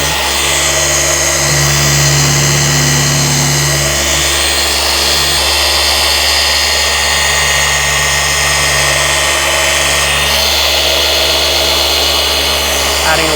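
A car paint polisher cuts through clear coat with correction cream under light pressure, giving a loud, steady whirring drone that holds without a break from start to finish.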